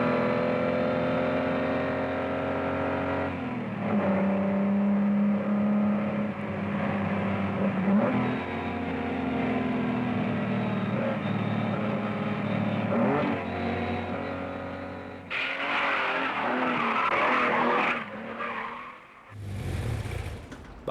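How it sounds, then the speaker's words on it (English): An Austin Healey race car on a 1965 Targa Florio practice lap in Sicily, driven by a rally driver, revs loudly and steadily through gear changes, then roars past with a sharp engine surge near the end. "This car is being driven on a practice lap for the 1965 Targa Florio race in Sicily."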